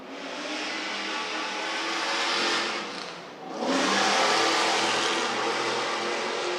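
A stadium racing truck engine revs hard out of turn 11 at Nashville, a loud, close high-pitched roar that dips briefly mid-run as it shifts, then surges back to full throttle.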